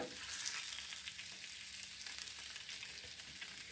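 Dry cured bacon fries on a Blackstone 22-inch E-Series electric grill, crackling in a steady, dense sizzle with scattered pops, fairly quiet and close, with no voices.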